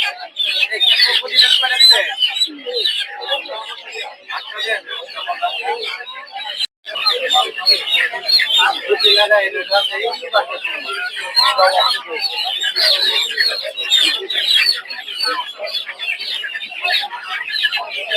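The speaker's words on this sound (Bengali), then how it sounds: "মুরগি সব হচ্ছে" Chickens clucking and chirping continuously at a busy village market in Bangladesh, with people talking throughout over the dense poultry chatter.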